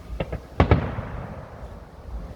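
Bonfire Night fireworks on 5 November 2023 go off outdoors: two sharp pops, then two louder close bangs followed by a rolling rumble and crackle that slowly dies away.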